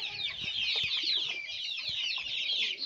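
Young chickens, around ten weeks old and including a naked-neck bird, kept in a poultry pen: a dense, continuous chorus of overlapping clucks and chirps, steady and close, with no talking.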